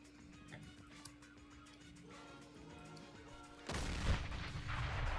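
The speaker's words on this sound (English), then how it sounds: "And I hear gunfire." Gunfire and explosions in a blocky war video game: scattered distant shots over a droning background, then a sudden loud burst of blasts and heavy firing that continues to the end.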